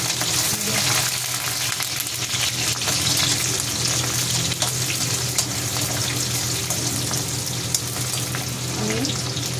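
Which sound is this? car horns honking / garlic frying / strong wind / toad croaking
garlic frying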